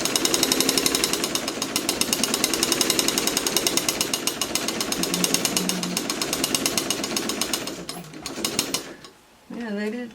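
A quilting machine with a plastic foot stitches in a rapid, steady mechanical hammering, loud and close, with a faint tapping as if the foot were striking, before slowing and stopping near the end.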